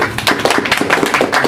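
An audience claps at a music video launch programme, a dense burst of many hands applauding together, steady and fairly loud throughout.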